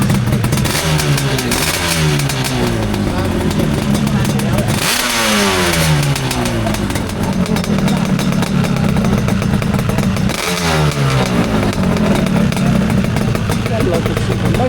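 Old motorcycle engine running at a custom and classic motorcycle show, a steady loud drone with repeated rising revs throughout, while people talk nearby.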